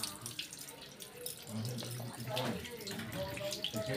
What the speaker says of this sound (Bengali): এই যে আলুগুলো ধুচ্ছি